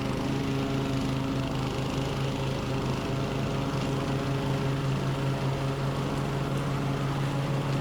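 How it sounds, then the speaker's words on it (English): A lawn mower engine drones steadily and loudly throughout, a constant buzzing hum with no pauses or changes in pitch. "Simple mowing. I'm turning it into a carpet"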